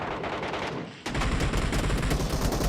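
Gunfire from a multiplayer shooter video game match: dense, rapid automatic bursts that run almost nonstop. The shooting dips briefly, then returns louder and fuller, with no talk.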